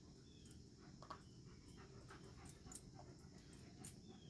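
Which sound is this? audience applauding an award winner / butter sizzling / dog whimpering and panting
dog whimpering and panting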